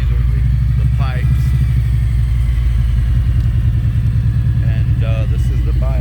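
Kawasaki Voyager motorcycle engine idling through its exhaust pipes, a loud, steady low throb close by, with brief bits of speech over it.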